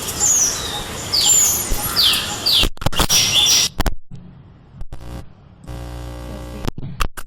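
Small birds at a hanging bird bath chirp and tweet in quick repeated bursts, close and fairly loud, followed by scattered clicks and rustling.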